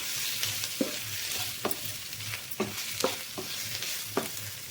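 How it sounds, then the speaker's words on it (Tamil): Chicken pepper fry with coriander and curry leaves sizzling in a pan while a spoon stirs it, adding several distinct scrapes and taps over a steady close frying hiss, with no talking. "மல்லி கருவேப்பிலை போட்டு கலந்து விட்டுக்கோங்க."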